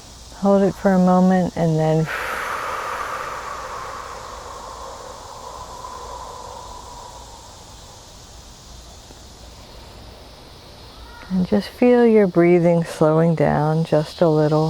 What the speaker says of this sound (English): It's, late summer and the cicadas like to make their presence known.